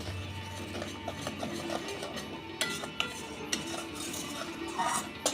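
A spoon scrapes and clinks against a pan as spices with coriander powder and Kashmiri chili powder are stirred and fried, a steady soft sizzle with sharp metallic taps here and there.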